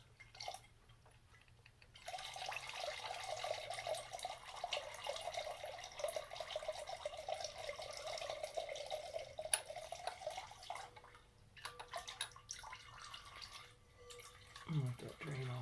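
Hot engine oil draining from a Lifan Xpect during an oil change, a steady soft trickling stream that starts after a quiet moment and runs on continuously, fairly faint, with small clatters near the end.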